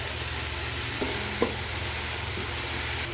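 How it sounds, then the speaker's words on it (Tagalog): Tomatoes and onions sauté with salt in a pan for Filipino mung bean stew, giving a steady, close sizzle with a couple of soft clinks from stirring. No one speaks. "Lagyan natin ng asin guys habang niluluto natin yung ating kamatis"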